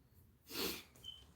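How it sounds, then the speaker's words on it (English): A single quiet sneeze, a brief breathy burst, followed by a soft exhale. "Something here got me sneezing."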